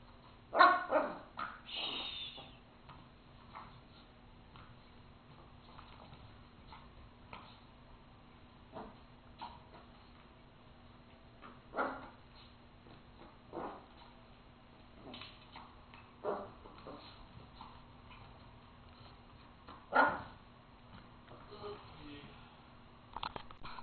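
A small dog plays with a homemade toy, giving short scattered barks and whimpers spread across the stretch, near and moderately loud, with quiet gaps between bursts and a person's encouraging voice heard at times.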